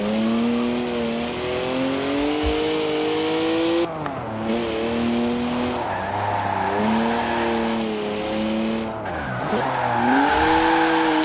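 A rear-wheel-drive BMW with 50-50 weight distribution drifts in Forza Horizon, its engine holding a steady loud drone with rising and falling revs while the tires squeal through long slides.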